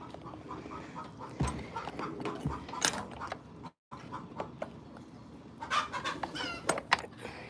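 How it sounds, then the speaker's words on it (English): Chickens clucking and squawking inside a backyard coop, a busy run of irregular calls near the mic, with a brief break midway. "You know, you're making a lot of noise in there, chicken, for making no eggs."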